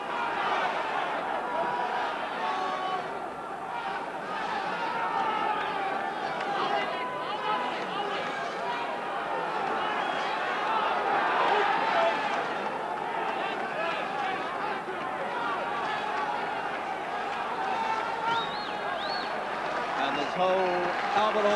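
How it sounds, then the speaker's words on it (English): Boxing crowd at a 1984 bout applauding and cheering steadily as the final round ends, a broad continuous roar of clapping and chatter held at even loudness throughout. "Tremendous applause as we come to the end."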